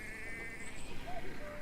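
Sheep bleat in the Pillars of the Earth video game, a couple of short wavering calls over a steady farmyard ambience with a faint background tone.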